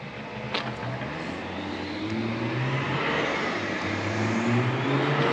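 A BMW E36 325 TDS diesel with a 2.0-bar boost setup accelerates hard, its engine note rising and growing steadily louder as it pulls. The drone is continuous and fairly close, with no voices over it.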